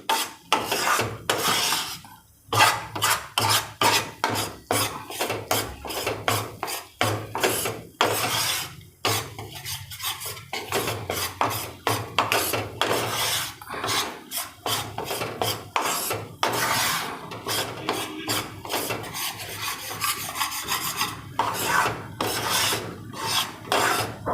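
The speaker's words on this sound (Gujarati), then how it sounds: "બધી બાજુથી લેતું જવાનું અને શેકતું જવાનું આખો કલર ચેન્જ થાય ને ત્યાં સુધી એને થવા દેવાનું છે" A spoon scrapes and stirs flour roasting in a pan for magas ladoo, a rhythmic rasping scratch repeating steadily and close for the whole stretch with no talk.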